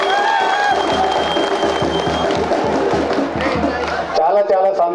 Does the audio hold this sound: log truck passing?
no